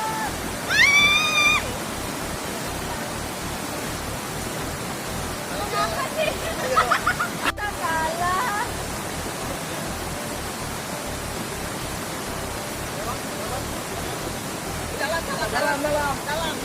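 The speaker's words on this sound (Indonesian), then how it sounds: "kita lagi nyebrang riamnya dan butuh perjuangan juga karena batunya licin dan arusnya juga lumayan deras" Strong river rapids rush over slippery rocks near a hidden waterfall in Kalimantan, a loud continuous roar of flowing water with brief voices and shouts over it.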